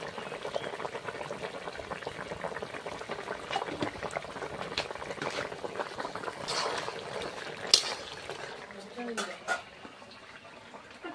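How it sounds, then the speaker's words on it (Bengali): A pot of tomato fish curry bubbles at a steady simmering boil, a continuous soft gurgle and pop heard fairly close, with a faint voice in the background. "তরকারিটা ফুটছে, এবার মাছগুলো দিয়ে দিচ্ছি"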